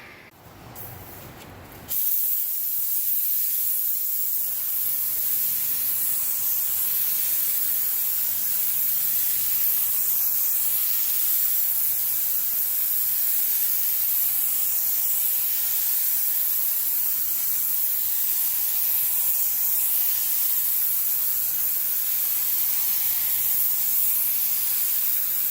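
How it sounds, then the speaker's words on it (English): Spray gun applying primer to a 1988 BMW E30 M3, a loud, steady, close hiss that starts abruptly after a short quiet moment and runs on unbroken. "We'll get the primer on in a minute."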